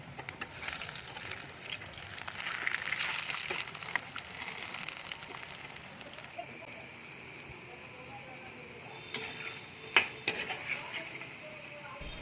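Pakoras fry in a pan of oil with a soft, steady sizzle, quiet and close. A few clinks and scrapes sound near the end, and a voice speaks over the frying.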